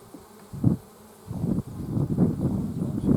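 Honey bees buzz around the hive in a low, fluctuating drone that swells and fades as insects pass near, steady and close with no voices.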